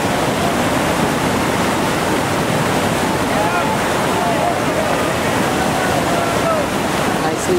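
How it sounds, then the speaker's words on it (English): Whitewater at Sweets Falls Rapid on the Gauley River, running at 4700 cfs, roars in a loud, continuous, even rush of churning water. "Sweet Falls Rapid."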